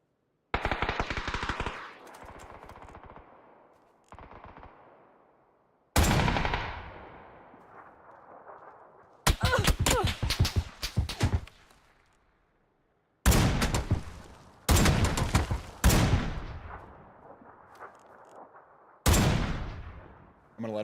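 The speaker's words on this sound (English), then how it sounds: "That's the house guy, probably shooting the sniper guy." PUBG video game gunfire comes in several separate automatic bursts and single shots, sharp and fairly loud, each trailing off into an echoing decay, with silent gaps between them.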